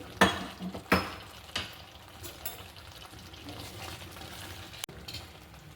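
Garlic chicken being stirred with its tempering in a pan: a few sharp scraping knocks of a spoon early on, then a soft, steady sizzle that runs on quietly to the end.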